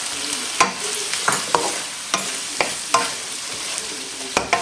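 Tuna pieces sizzle in a frying pan for a sweet-and-sour stir-fry, with a steady hiss of frying broken by repeated sharp scrapes and clacks of stirring, close and fairly loud, no voices.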